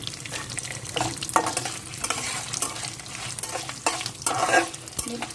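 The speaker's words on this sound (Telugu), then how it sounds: "ఎండుమిర్చి చేసుకుందాము వేగిపోవాలి" Dry red chillies fry in a pan with a soft, steady sizzle, while a spoon stirs and scrapes against the metal at irregular intervals, close by and with no talking.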